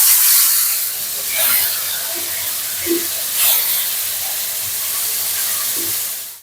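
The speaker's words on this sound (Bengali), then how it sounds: "মাছগুলো আমি এখন উল্টায় দিতেছি।" Fish fry in hot oil in a pan while being turned over, a steady close hiss and sizzle with a few soft scrapes and bursts of spitting as the pieces are flipped.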